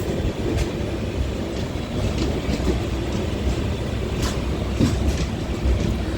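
A train runs on the single-line route from Nagercoil Junction toward Kanyakumari, a loud, continuous rumble of wheels and carriages with faint rhythmic clacks throughout and no voices.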